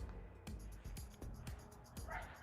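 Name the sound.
neighborhood dogs barking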